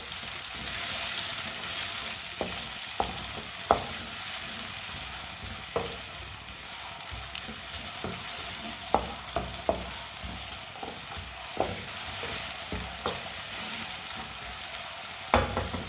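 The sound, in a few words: onions frying in a pan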